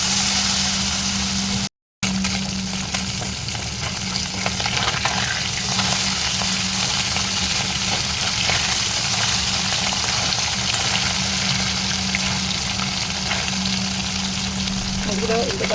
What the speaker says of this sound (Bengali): মাছগুলো অল্প অল্প করে দিয়ে মুড়িগুলো আমি ভেজে নেবো